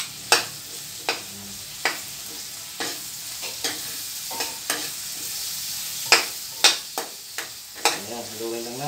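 Two onions are stirred in a hot pan while frying toward brown for patang humba, a continuous sizzle broken by repeated sharp spatula scrapes and clacks against the pan, close and fairly loud.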